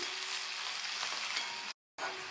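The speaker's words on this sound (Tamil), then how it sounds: "எண்ணெயும் கொஞ்சம் அதிகமாக சேர்த்து வதக்கிக்கணும்." Chopped pirandai (veld grape) sautés in a generous amount of oil, giving a dense, continuous sizzle heard close up, broken by one brief moment of silence near the end, with no voices.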